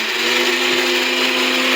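A mixer grinder whirring through cooked lentils with onion and tomato, a loud, steady motor drone with a constant pitch that runs unbroken for the whole short burst.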